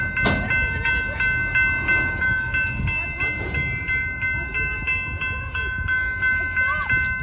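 A freight train rumbles by at a level crossing at S 33rd W Ave in Tulsa, Oklahoma, a steady loud roar with the sustained tones of the horn and a bell, slowing toward a stop while people talk over it.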